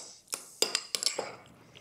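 A spoon stirs a feta canapé mixture with lemon juice, kosher salt and black pepper in a bowl, clinking sharply against the sides a handful of times in an uneven rhythm, close and fairly quiet.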